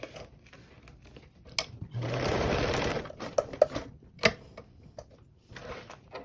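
A domestic sewing machine runs in one short, steady burst while basting a strip of fabric below top stitching, framed by quiet handling clicks and taps before and after.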